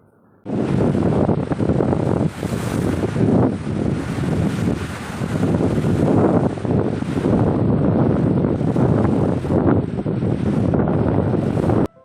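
Steady roar of ocean surf at Mousuni Island buffeted by heavy wind against the microphone, with waves swelling and breaking continuously.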